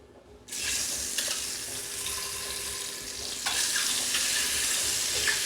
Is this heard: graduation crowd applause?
no